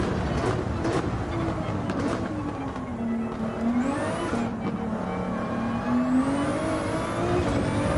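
Race car engine in the video game Gran Turismo 7 accelerating on a circuit, a loud continuous roar with rising and falling engine pitch and shifting tones, heard alone without commentary.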